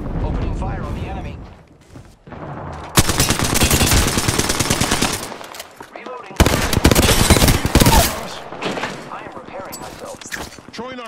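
Gunfire in an Apex Legends match arrives in two loud, sustained automatic bursts of rapid shots, separated by a quieter gap with lighter in-game mechanical sounds.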